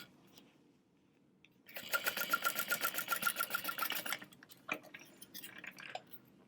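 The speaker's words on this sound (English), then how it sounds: "we're going to sew from one corner to the next. I'm going to use a stitch length of 4." A sewing machine running at stitch length 4 along a bag seam, a steady rapid mechanical stitching rhythm lasting about two seconds, then a few scattered clicks and shorter runs afterward, heard up close with no talking.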